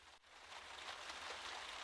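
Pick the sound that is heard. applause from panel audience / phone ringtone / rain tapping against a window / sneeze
rain tapping against a window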